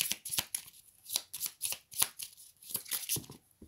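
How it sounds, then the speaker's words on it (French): A deck of cards is shuffled and handled up close while one card is drawn, giving quick papery riffles and flicks in irregular bursts with no talking. "Il y a beaucoup de cartes. Je vais en prendre qu'une."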